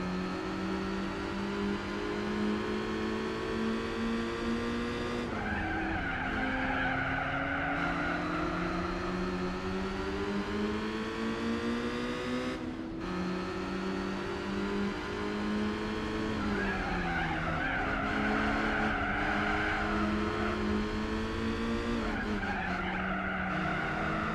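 A car in Gran Turismo 4 oversteers and skids: a loud, continuous engine drone rises and falls through gear changes, with long tire squeals layered on top for the whole stretch.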